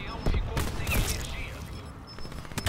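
Sniper gunfire in the video game Call of Duty Black Ops 4: a few sharp shots and rattling game effects crack over a steady mix of in-game noise, with someone talking in between.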